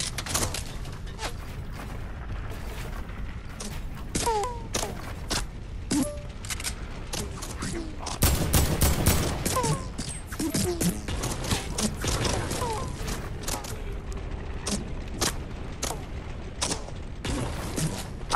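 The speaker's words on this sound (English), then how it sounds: "Some guy's trying to shoot me down already" Enemy gunfire in Fortnite crackles as a run of sharp shots scattered through the scene, mixed with game effects and mechanical clatter, with a player talking over it.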